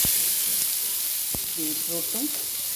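Mustard seeds and beetroot sizzling in hot oil, a bright continuous hiss of frying with a couple of sharp pops, under brief snatches of a voice talking.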